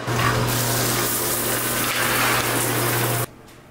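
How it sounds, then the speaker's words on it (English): Shower water runs steadily in a Cold War bunker. A loud, even hiss of spray sits over a low pump hum, then cuts off abruptly near the end, leaving near silence. "Shower time."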